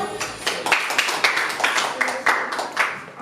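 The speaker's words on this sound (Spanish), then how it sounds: "Un aplauso para Diego." A small group claps for a guest magician at a magic academy, a few hands beating in quick uneven bursts that swell and ease, close by and moderately loud with no talking over it.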